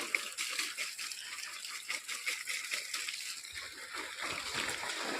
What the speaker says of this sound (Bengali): গাছটা জলটা দিয়ে দিই